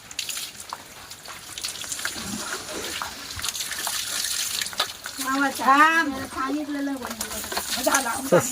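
Water sprayed from below onto the belly of a muddy golden dog, a steady hissing wash with splashes, while a person talks over it.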